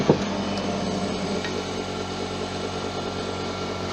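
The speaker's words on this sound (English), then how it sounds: "I'm going to have to sharpen this gouge again." A woodturning gouge is sharpened on a running machine, making a steady, loud, even mechanical whir with a short sharp scrape at the start and no voices.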